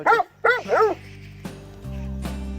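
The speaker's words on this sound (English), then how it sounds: "You bark that you want to come in" A dog gives two or three quick, high-pitched barks close by, followed by a few faint knocks and a low hum.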